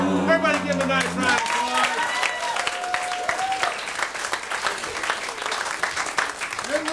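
Audience applause at a live comedy or improv show, a sustained wash of clapping from a crowd that carries on for several seconds, with some voices and a brief tone mixed in.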